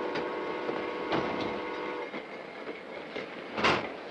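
A passenger train runs steadily on its rails, giving a continuous rumbling roll with rhythmic clicks and metallic clacks at a moderate level and no voices.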